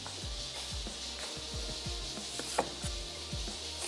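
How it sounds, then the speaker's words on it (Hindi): A knife roughly chops an onion on a board for beef kebabs, a series of near thuddy strikes in an uneven rhythm, each a short low knock, with no talking. "मैं प्याज को रफली चॉप कर लेती हूँ"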